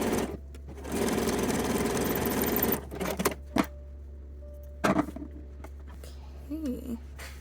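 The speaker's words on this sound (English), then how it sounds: "go ahead and top stitch it in place using a stretch stitch" A sewing machine runs a stretch-stitch topstitch along a lingerie cup seam, one sustained burst of fast mechanical chatter followed by brief stops, clicks and a low motor hum.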